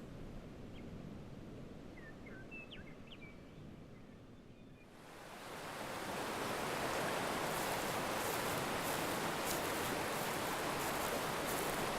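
Quiet outdoor ambience with a few faint bird chirps gives way to a rising, steady rush of flowing river water, the River Naimu, which grows loud and fills the remainder without any voices.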